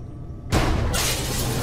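A sudden loud crash of glass breaking above a laboratory door in the Gibbous adventure game, bursting in after near silence and trailing into a sustained bright scatter of debris.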